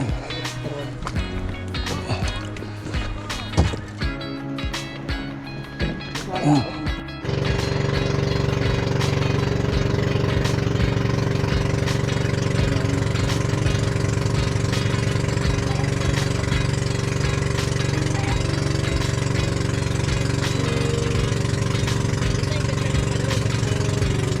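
A fishing boat engine idles with a steady, even drone that settles in after a few seconds of irregular clatter and rumble.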